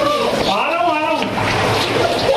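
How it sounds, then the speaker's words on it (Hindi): Cold water runs into a cave at Sahastradhara near Dehradun, a steady close gushing and splashing wash that fills the whole moment. "ये अंदर ठंडा ठंडा पानी आ रहा है ये अंदर गुफा में"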